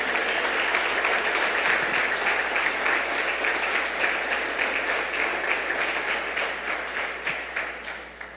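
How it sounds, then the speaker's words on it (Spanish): A church congregation claps steadily in a dense, even wash of applause that holds for several seconds and thins slightly toward the end. "si ese aplauso es para el Rey, dáselo con todo tu corazón"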